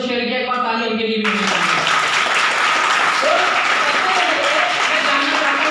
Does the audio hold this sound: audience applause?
yes